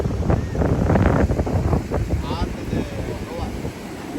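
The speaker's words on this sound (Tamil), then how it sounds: "இதாங்க கோவாவில் பாகா பீச்" Wind and surf at Baga Beach in Goa: a steady rush of wind buffeting the microphone over the broad wash of waves, loud and continuous throughout, with a brief faint higher tone partway through.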